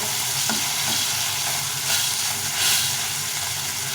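Peanuts fry in a pan, making a loud, steady sizzle with a hissing wash that swells briefly a couple of times and a few light stirring knocks, close up, with no one talking.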